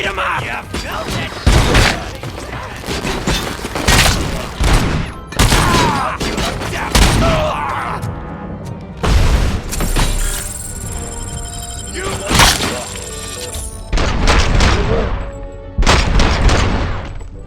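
Gunfire in the video game RoboCop: Rogue City comes in loud, repeated bursts and volleys with heavy impacts between them, while voices shout over the firefight.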